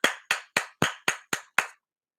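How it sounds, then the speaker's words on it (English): Seven sharp hand claps in an even, quick rhythm, close and crisp, each one standing alone against silence, then a short quiet pause. "Let's give a hand clap for the PulseWaves."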